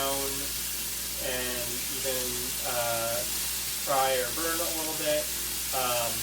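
Broccoli fries in a pan on medium heat with a faint, steady sizzle and hiss, while someone talks at length over it.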